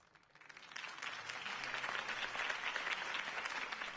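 A crowd applauds in a video game, the clapping swelling from quiet to a steady, dense roar that continues throughout.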